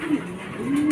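Racing pigeons arriving at the loft after a hard derby race give low, soft cooing notes, a couple of brief coos close by against a steady background hum.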